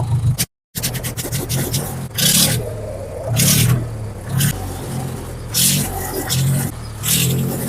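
An old tractor engine revs at full throttle, its loud roar swelling and easing in repeated surges over a steady low drone, broken once by a brief dropout near the start.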